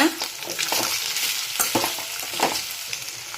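Colocasia (taro root) pieces frying in a pan with turmeric, stirred with a spatula, giving a continuous sizzle broken by soft scraping strokes, close and moderately loud.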